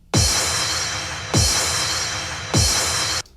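Reverse crash cymbal with a low-end impact in an Arabic-influenced trap beat: three sharp bursts of bright, washy cymbal noise, each with a deep thump at its onset and cut off abruptly, loud and alone.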